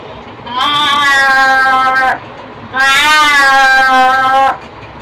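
A voice imitates a big cat with two long, drawn-out meowing wails, each a couple of seconds, loud and close with a wavering pitch.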